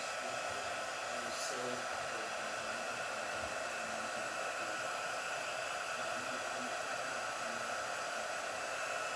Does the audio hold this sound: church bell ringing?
no